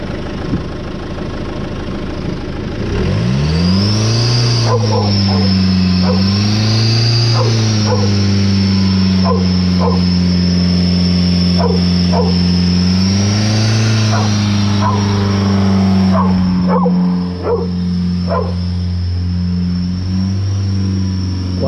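A Ulysse engine with a newly fitted turbo idles, then is revved and held near 3000 rpm, a loud steady drone with slight rises and falls and repeated dog barks over it, close by.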